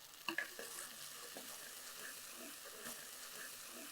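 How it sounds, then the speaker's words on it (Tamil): Chopped tomatoes sautéing in a pan for a village-style urad dal kuzhambu give off a low, steady frying hiss with faint stirring scrapes and a few brief clinks near the start. "இதை வந்து ஒரு ரெண்டு நிமிஷம் அப்படியே நல்லா வதக்கி எடுத்துக்கலாம்"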